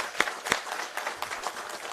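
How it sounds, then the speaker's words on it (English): An audience at the opening of a Eurofins biopharma services campus in India breaks into applause, a dense patter of clapping with a few sharper claps standing out, close and continuous. "I think that deserves a big round of applause."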